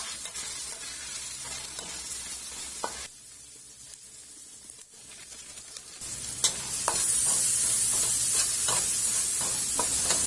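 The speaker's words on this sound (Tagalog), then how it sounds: "At dito na rin tayo magigisa ng ating sibuyas at ng bawang." Onion and garlic sauté in a pan for menudo, a steady close sizzle that dips briefly, then returns louder with scraping stirs and crackling pops, with no one speaking.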